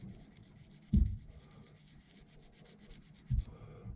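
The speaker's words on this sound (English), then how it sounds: "these sanding things are also good for getting dirt off as well" A sanding pad rubs back and forth over the metal blades of Godhand nippers to clean them, a quiet, rhythmic scratchy scrubbing with two louder knocks about two seconds apart.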